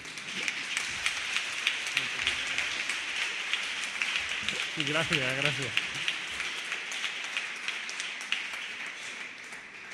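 Audience at a United Left political campaign rally for Andalusian elections clapping steadily in a dense patter throughout, with a speaker's voice briefly thanking them over the applause midway.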